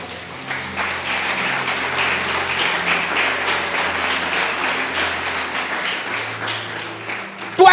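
A church congregation at a Sunday service claps and applauds continuously. The applause is a steady dense patter with a low background drone underneath.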